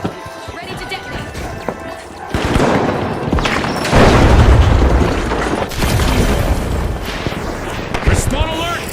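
Loud blasts and crackling detonations erupt in the first-person shooter The Finals, swelling into a heavy rumbling burst mid-way, with game announcer chatter and action sounds throughout.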